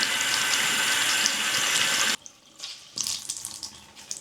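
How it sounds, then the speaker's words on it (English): Hot tap water gushes loudly into a bathroom sink over a clean towel for about two seconds, then cuts off, leaving soft wringing and dripping sounds as the towel is squeezed. "I'm gonna take a new clean towel and we're gonna run it under hot water"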